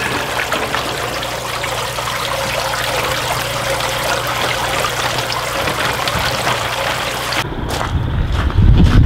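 Water sprays and splashes steadily over lawncare and landscaping equipment being washed down, a close, continuous rushing and trickling that shifts into heavier splashing near the end.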